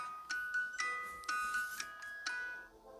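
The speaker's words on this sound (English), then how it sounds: "The music emanating from this box is the children's nursery rhyme, My Grandfather's Clock," A music box from Five Nights at Freddy's 2 plays My Grandfather's Clock, a faint tinkling melody of single plucked metal notes spaced in a gentle, slow rhythm.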